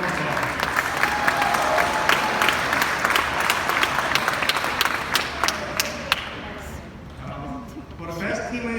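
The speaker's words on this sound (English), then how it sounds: "Let's give them a round of applause." An audience claps steadily at a high school sports awards ceremony, a dense, fairly close wash of many hands that thins and fades out near the end.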